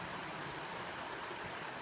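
A shallow creek at a campground flows with a steady, soft rushing and burbling of water, continuous and fairly close, with no voices.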